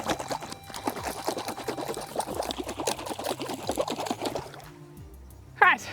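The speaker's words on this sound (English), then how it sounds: "So here I'm filling up my jar." Water and soil poured into a glass jar for a DIY soil test, giving a steady close pouring and trickling wash that runs several seconds, then trails off into quiet before a brief sharp sound at the end.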